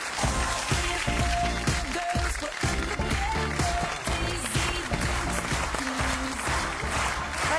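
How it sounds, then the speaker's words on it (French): Applause from a French TV studio audience for a swimsuit model, dense clapping running under bright music with a steady beat throughout. "C'est Magda que je vous demande d'applaudir."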